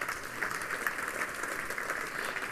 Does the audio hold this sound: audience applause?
yes